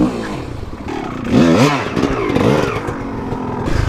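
A 2021 Kawasaki KLX300 dirt bike climbs over a log off road, its engine revving up in a couple of sharp swells with clattering and scraping of the bike against the wood, close and loud.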